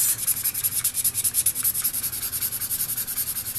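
A Copic marker's chisel tip rubs across paper while coloring a rose drawing, making quick rhythmic back-and-forth scratchy strokes, close and steady with no talking.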